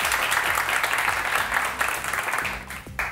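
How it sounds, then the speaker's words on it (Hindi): Studio audience on a morning television show clapping in a steady, dense round, fairly close and loud, with low rhythmic music running beneath and a brief dip near the end. "आज के शो के लिए भी बहुत सारी तालियां बजा दें"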